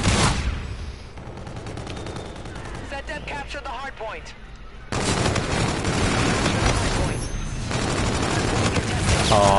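Heavy gunfire during a shooter video game match, with loud, close bursts and explosive booms, a quieter stretch midway, then sustained firing; voices speak over the action.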